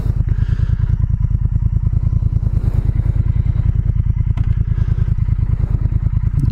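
A 2019 Triumph Speed Twin motorcycle rumbles steadily while being ridden, its engine pulsing in a dense, regular low throb that stays loud and constant throughout, with faint clatter and wind on top and no voices.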